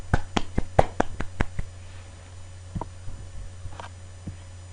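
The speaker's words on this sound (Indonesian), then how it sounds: "Tepuk tangan." A class clapping hands gives a quick burst of sharp, close claps over the first second and a half, thinning to a few scattered taps over a low steady hum.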